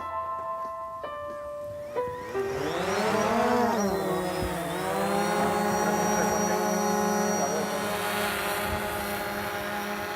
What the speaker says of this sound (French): Pour Gianluca, c'est l'endroit idéal pour tester les capteurs légers qu'il a fixés sur son drone.